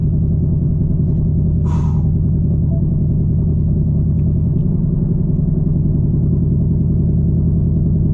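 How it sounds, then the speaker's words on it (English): Steady loud low rumble inside a 2024 Mustang GT, with the engine idling and a constant droning hum as the air conditioning fan runs; a short hiss of air bursts out briefly. "Let me go ahead and turn the AC on right now."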